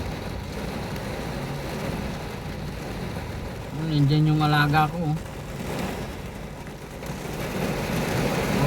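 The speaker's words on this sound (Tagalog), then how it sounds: "bumuhos na naman yung malakas na ulan" Heavy rain pours in a dense, steady hiss during a downpour on a road, a continuous wash under brief talk from a person nearby.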